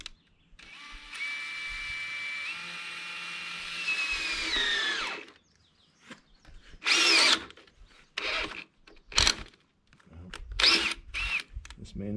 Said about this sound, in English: This is the first hole I'm drilling here